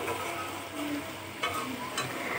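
Dried fish (shutki) sautés in a pan with a steady, soft sizzle and faint stirring scrapes throughout, with no talking.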